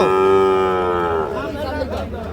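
A young bull calf at a rural cattle market gives one long, loud, close moo that slides downward, followed by a rough market background with faint chatter.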